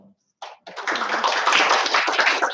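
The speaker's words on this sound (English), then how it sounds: "big round of applause for all us" A workshop audience breaks into applause after a brief tap, the clapping swelling quickly and staying steady and dense, close and fairly loud, with no talk over it.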